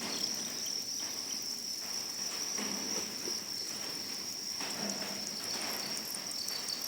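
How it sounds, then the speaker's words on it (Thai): Copper and black-gold crickets in a farm cricket pond, mostly copper, make a dense, continuous high trilling chorus that stays steady and loud throughout. "อันนี้จะเป็นจิ้งหรีดพันธุ์ทองดำทองแดงค่ะ แต่บ่อนี้ก็จะมี จิ้งหรีดทองแดงเยอะกว่านะคะ"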